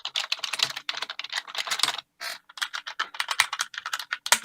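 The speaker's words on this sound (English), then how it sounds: "it feels a lot nicer and it feels a lot smoother to type on" Rapid, crisp keystrokes on a Corsair K65 mechanical keyboard with Cherry MX switches, typed in dense bursts with a short pause midway, close and alone.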